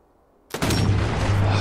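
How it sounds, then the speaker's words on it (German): A sniper rifle fires in the video game Sniper Elite 4: a single sudden loud crack after near-silence, followed by a long rumbling echo that carries to the end. "schon wieder so ein schlechter Schuss"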